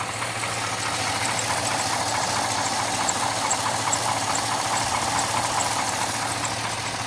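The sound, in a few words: 2005 GMC Sierra pickup truck engine idling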